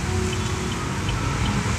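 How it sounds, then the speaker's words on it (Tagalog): Heavy outdoor rain pours down in a steady, dense hiss with no breaks or clear separate drops. "ang lakas kasi ng ulan, tapos sa labas siya"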